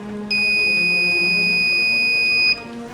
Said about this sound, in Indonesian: suara bip buzzer pada salah satu saklar kurang nyaring, menandakan koneksi saklar memiliki resistansi tinggi.